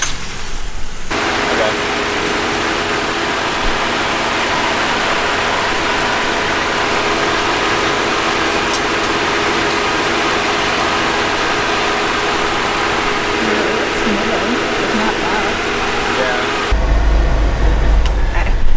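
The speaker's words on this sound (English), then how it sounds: "leave the car idling and park on a level surface" A Ford Transit Connect camper van with a transmission fault idles with a constant broad hum and faint tonal whine, unchanging for a long stretch before a brief louder low rumble at the end.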